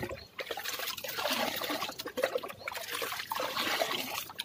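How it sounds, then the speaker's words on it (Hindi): Water trickling and sloshing as it is stirred together with pigeon deworming medicine, a steady close-up liquid swirl lasting throughout with no talking. "इस पानी को थोड़ा मिला देते हैं ताकि ये पानी और दवाई बिल्कुल प्रॉपर तरीके से मिल जाए"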